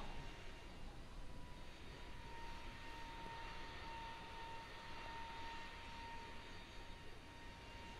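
Steady external engine drone of an iNiBuilds A320neo airliner in a flight simulator game, a constant broadband roar with a faint whine, continuous and unchanging.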